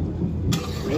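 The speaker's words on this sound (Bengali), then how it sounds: "এটা মেঘ ডাকার শব্দ।" Thunder in stormy weather near Rajshahi gives a brief, low, heavy rumble, steady and fairly loud throughout, with no talking.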